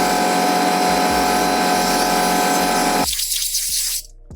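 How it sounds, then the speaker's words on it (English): Air compressor nozzle blowing dust out of the fans of a 2015 MacBook Pro, a loud steady hissing rush with a rhythmic low pulsing underneath that drops away near the end, leaving a brief fainter hiss. "we'll use the air compressor and clean it out"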